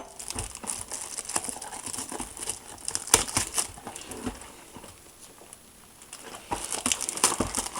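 Panini sticker pack wrapper for a UEFA Champions League 2013/2014 collection, crinkled and handled up close in quiet, with irregular crackling bursts and soft rustles.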